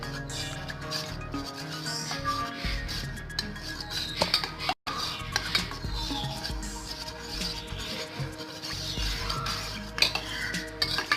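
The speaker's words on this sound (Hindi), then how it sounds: "इसमें शामिल किया कॉर्नफ्लावर और इसको अच्छी तरह से मिक्स कर लूँगी।" Cornflour mixture stirred in a cooking pot, a utensil scraping and clinking steadily against the metal for several seconds, close and moderately loud with no voices.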